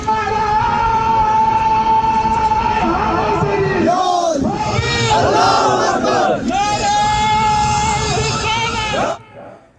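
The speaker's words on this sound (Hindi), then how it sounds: "कश्मीर में पाकिस्तान मुर्दाबाद के नारे गूंज रहे हैं, घाटी गूंज गई" A large crowd in Kashmir chanting slogans loudly in unison, a dense roar of many voices with rising and falling shouted phrases that cuts off near the end.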